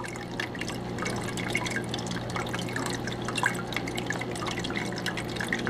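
Water runs steadily through a gold prospecting sluice on the Salmon River at a slow flow, a continuous close wash of trickling and dripping without speech.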